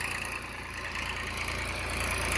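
A New Holland 3032 tractor engine fitted with a new silencer idles steadily close by, a continuous mechanical rumble and hum holding an even level, with no voices.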